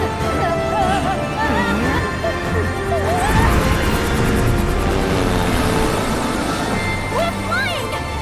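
Tiny Bronco plane flying in Final Fantasy VII, its propeller and engine roar running continuously under a musical score, with voices talking over it.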